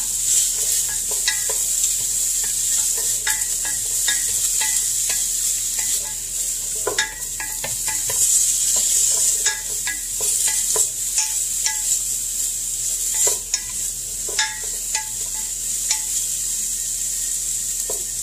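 Food with garlic sizzles steadily in a pan, close up, with a constant frying hiss broken by frequent clicks and scrapes of a utensil against the pan across a long stretch.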